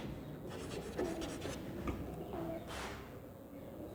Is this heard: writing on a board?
yes